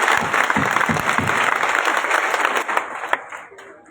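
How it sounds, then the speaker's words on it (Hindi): Loud applause from a seated audience at a Hindi-language Bahujan community gathering, dense steady clapping that swells briefly and then tapers off toward the end, with no talk over it. "जोरदार तालियों से स्वागत कीजिए।"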